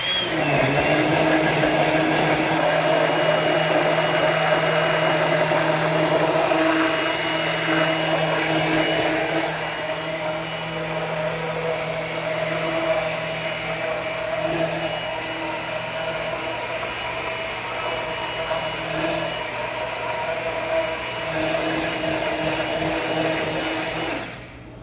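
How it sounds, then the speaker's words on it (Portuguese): A combination gelato machine churning gelato, a loud continuous motor whine with steady high tonal hums that dips slightly partway through and cuts off at the end, with no speech. "Agora eu vou mixar de novo, tá? Aquele barulho lindo, barulho de gelato."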